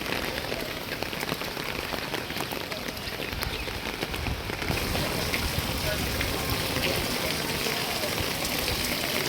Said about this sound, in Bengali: এখন দেখুন রাস্তাঘাট ফাঁকা আর সেই লেভেলের বৃষ্টি হচ্ছে